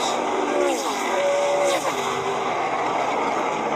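NASCAR stock cars at Michigan pulling hard off turn 2 in a 2009 race, a steady high engine whine with pitch shifts as cars pass, heard from a distance over constant crowd and track noise.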